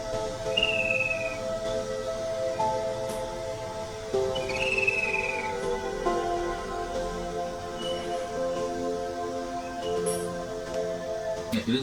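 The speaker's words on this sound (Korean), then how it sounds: "이런 식으로 새소리가 지금 들어갔고요" Bright bird chirps and tweets are layered over a soft, calm sleep music bed, with a few short whistled calls rising above a steady tonal background.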